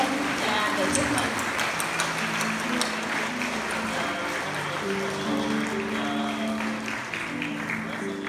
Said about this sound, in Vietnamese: cho một tràng pháo tay thật lớn